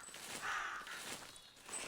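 Crows caw faintly in theHunter Classic, a few soft calls drifting from a distance over quiet outdoor ambience.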